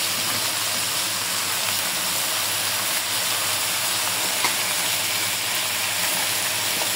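Red amaranth greens tossed into a pan of frying small river shrimp and onions give a steady, loud sizzling hiss that runs unbroken throughout, with no voices.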